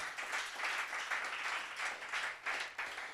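A congregation at a church revival gathering applauds and acclaims the Lord, a sustained wash of clapping and cheering in rolling waves, fairly distant and without clear speech.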